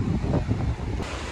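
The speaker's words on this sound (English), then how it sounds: "The wind is fucking awful, but the waves here at Marco Island are crazy." Strong wind buffets the microphone alongside ocean waves at Marco Island, Florida, a loud, rough, continuous roar over the whole short stretch.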